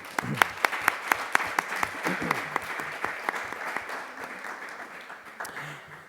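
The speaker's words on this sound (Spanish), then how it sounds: "un aplauso para Lucía, por favor" An audience in a hall at a small-theatre festival bursts into applause for a woman, with distinct individual claps at first that merge into a steady round before slowly tapering off.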